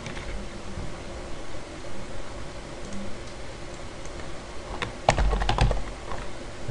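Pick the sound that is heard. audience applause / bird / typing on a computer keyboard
typing on a computer keyboard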